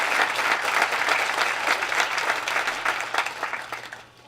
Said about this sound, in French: Je vous invite vraiment à une main d'applaudissement à tous.